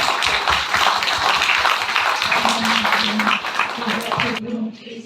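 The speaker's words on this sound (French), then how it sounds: "je pense qu'on peut l'applaudir très très fort" An audience at a talk about a conversion at La Salette applauds loudly and steadily for about four seconds, a dense wash of clapping with a faint tonal hum underneath, before it cuts off abruptly.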